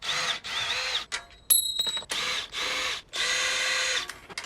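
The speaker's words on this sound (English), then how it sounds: "The first thing you're going to do is to screw off the bike basket." Cordless drill unscrewing a bike basket from a cargo bike, several short whirring bursts close up, separated by brief pauses and a faint click or two.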